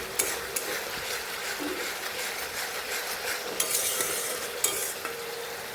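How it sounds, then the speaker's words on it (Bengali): Masala seasoned with salt and a little sugar is sautéed in a pan for a parwal dish, with a steady close sizzle and repeated spatula scrapes and stirring strokes throughout. "এবার মশলাটিকে আবারও কষিয়ে নিচ্ছি"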